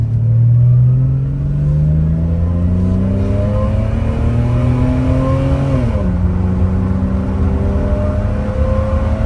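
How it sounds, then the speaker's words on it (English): A 2006 Ford Territory Ghia's 24-valve straight-six engine revs hard under full throttle, pitch climbing steadily, briefly dipping at a gear change, then rising again; loud, from inside the car with a window open. "Sounds incredible, like only a 24 valve straight 6 can."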